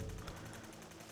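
Rifle fire in the game Fallout 4, heard as a dense, steady burst of rapid, sustained firing, loud and unbroken throughout the short stretch, with no voice over it.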